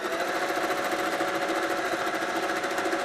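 A longarm quilting machine stitches a small cloud pattern into a quilt, a steady fast mechanical hum with rapid even needle pulsing, close and continuous throughout with no talk.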